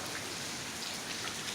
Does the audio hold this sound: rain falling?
yes